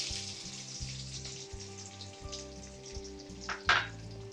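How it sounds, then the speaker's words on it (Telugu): Onions fry in hot oil for a chicken fry, a faint steady sizzle under low rhythmic background tones, with a short clatter near the end. "నెక్స్ట్ అవి ఆయిల్ హీట్ అయిపోయినాయి, టక్కనే ఎగినాయి. ఆనియన్స్ వేసేసుకుందాం."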